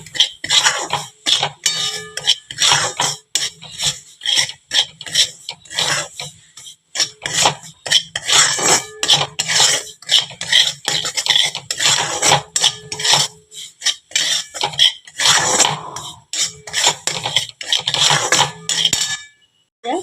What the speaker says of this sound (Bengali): এবার সুজিটা আমি লাল লাল করে ভেজে নেব